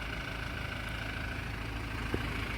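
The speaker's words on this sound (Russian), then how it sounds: "Двигатель красиво работает, конечно." A 2019 Toyota Prado 2.8 diesel engine idles in a steady, even rumble with a faint rattle, unchanging throughout and with no voices.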